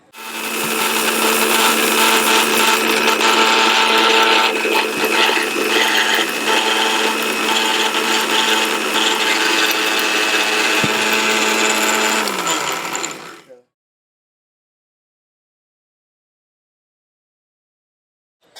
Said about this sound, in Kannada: ಇದೆರಡು ಹಾಕಿ ಫೈನ್ ಪೌಡರ್ ಆಗಿ ನಾವು ಮಿಕ್ಸಿ ಮಾಡ್ಕೊಳ್ಳೋಣ